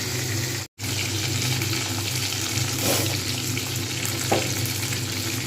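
Bhetki fish fries in a small wok, a loud, continuous dense sizzle close by with a brief dropout near the start and a few faint scrapes.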